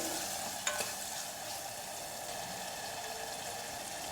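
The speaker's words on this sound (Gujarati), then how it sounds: "ફરી એકવાર બધું સારી રીતે મિક્સ કરી લઈએ" A spoon stirs a spice mixture with powdered sugar in a pan for Surti dana muthiya shak, giving a steady, close scraping hiss with one brief clink near the start.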